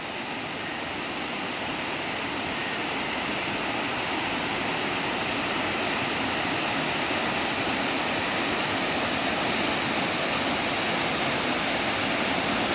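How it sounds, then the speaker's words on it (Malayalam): Meenmuttippara waterfall in Mallappally, Pathanamthitta, sends water spilling over tiered rock steps in a steady, loud, unbroken rush that fills the whole stretch. "തട്ടുതട്ടായി വെള്ളം ഒഴുകി വരുന്ന മനോഹരമായ കാഴ്ചയാണിത്."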